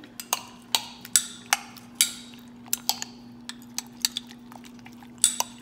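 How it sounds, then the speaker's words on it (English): Chopped peppers are stirred into an egg and sausage mixture with a utensil, giving sharp, irregular clinks and taps against the bowl over a faint steady hum. "I'm gonna go and plop it in my egg and sausage mix. And I'm gonna give that a good old mixture"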